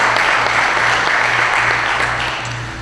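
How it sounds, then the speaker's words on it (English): Luncheon audience in Walton County breaks into a burst of applause, a dense wash of clapping that fills the room and fades slightly toward the end. "Give a round of applause."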